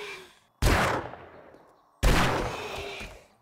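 Two loud, close revolver shots firing normal ammo in the survival game 7 Days To Die, about a second and a half apart, each a sharp blast with a long decaying tail and no talking.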